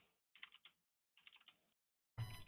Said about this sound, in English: I hear the keyboard typing, so I know he's not doing anything.